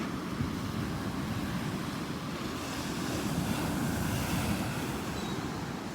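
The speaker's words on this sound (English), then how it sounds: "That's how big the tide is by the pipe. Literally keeps on flooding over the pipe" Ocean waves and tide surge over a pipe on a beach, a steady loud roar of surf mixed with wind buffeting the microphone throughout.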